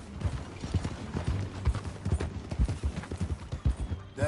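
Horse hooves clip-clop in a steady rhythm while riding in a PS4 western game, near and moderately loud, with a low steady background underneath and brief snippets of voices.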